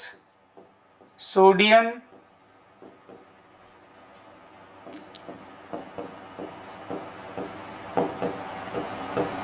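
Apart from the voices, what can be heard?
writing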